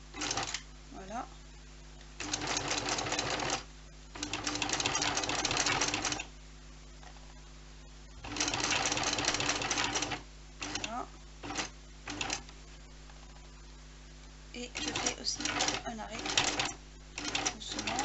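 A sewing machine stitches along the edge of a fabric protective face mask in several bursts of rapid mechanical chatter, separated by pauses in which someone speaks.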